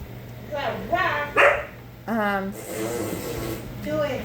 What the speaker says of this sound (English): My wife's dog.